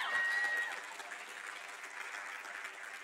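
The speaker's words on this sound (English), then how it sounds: "Go ahead and clap for yourself." A live church congregation at Unity North Atlanta applauds steadily for about three seconds, a dense wash of clapping at moderate distance. A single whistle sounds early on.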